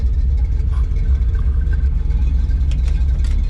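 A Chevrolet C10 truck engine runs loud and close, a dense, steady low rumble with a throaty roar throughout and no voices.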